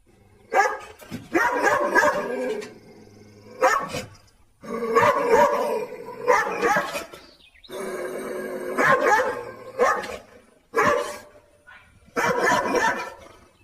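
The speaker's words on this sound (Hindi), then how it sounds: "जोर जोर से भौंकने लगता है" A dog barks loudly and repeatedly in bursts, close by, with short pauses between volleys of barks.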